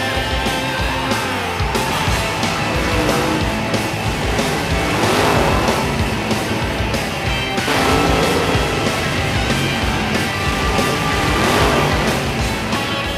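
Drag racing car with a manual clutch accelerating hard, a dense, loud engine roar that surges in waves with tire noise, steady and close throughout with no talk.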